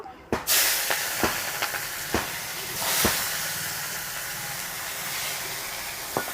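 Whole garam masala and chopped onion hit hot oil for Bengali chitol macher tel jhal, a loud burst of sizzling hiss at the start that settles into a continuous crackle, dotted with sharp spits and pops.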